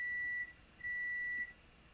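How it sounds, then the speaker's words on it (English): Two long electronic beeps, each about half a second, separated by a short pause, steady and fairly quiet. "And there's the alarm."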